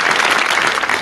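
An audience bursts into applause, a dense, loud wash of clapping that holds steady through the brief moment.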